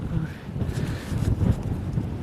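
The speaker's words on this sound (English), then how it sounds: "Really windy." Gusty wind buffets the microphone in low rumbling bursts outdoors while metal detecting, continuous throughout with no clear speech.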